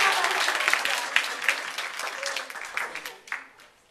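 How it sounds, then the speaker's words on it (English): Applause at a conference closing session, starting strong with crisp individual claps and gradually thinning and fading out toward the end. "Big round of applause."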